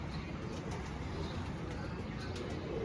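Rooftop pigeons coo softly in a loft, a faint low burbling set against steady background hiss, with a few light chirps and no clear speech.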